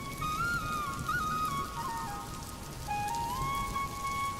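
Rain falls in a Bengali cartoon scene as a soft, steady patter, with thin melodic tones drifting above it and no speech.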